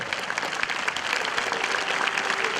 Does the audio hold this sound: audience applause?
yes